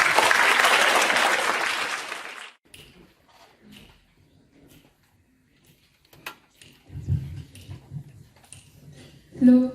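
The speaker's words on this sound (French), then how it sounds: "Applaudissements s'il vous plaît." A theatre audience bursts into loud applause that lasts a couple of seconds and stops abruptly, followed by near silence with scattered small clicks and shuffling sounds.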